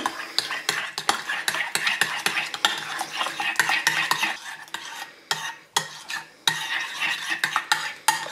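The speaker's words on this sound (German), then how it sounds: "Und das Ganze jetzt erstmal verrühren" A spoon stirs sandwich sauce of mayonnaise and ketchup in a bowl, with steady, close, repeated scraping and clinking strokes and a few brief pauses.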